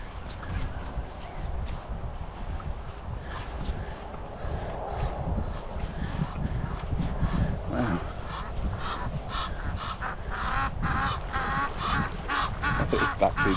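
Ducks call in a group outdoors, a steady run of honking quacks that grows denser and louder toward the end, over a low rumbling background.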